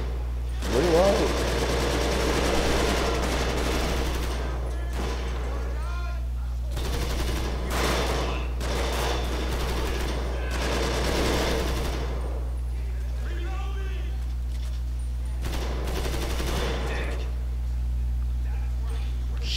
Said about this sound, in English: people shooting everywhere